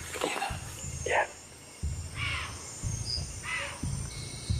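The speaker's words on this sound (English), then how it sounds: "Deer alarms sound in the distance." Deer give sharp alarm calls far off in a jungle where a puma is prowling. A few brief, faint barks are spaced a second or so apart over a low background hum.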